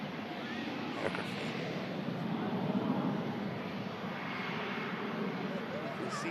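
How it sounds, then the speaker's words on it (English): A heavy aircraft rolls down the runway just after touchdown, its engines giving a steady broad roar at a distance, with wind noise and a person talking over it. "Absolutely classy touchdown from the heavy aircraft."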